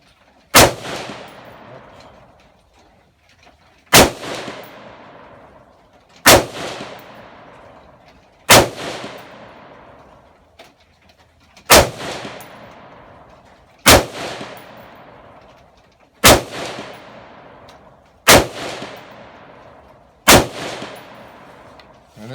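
Nine loud gunshots from a PSA AR15 budget pistol fired outdoors, evenly spaced about two to three seconds apart, each a sharp crack followed by a ringing decay.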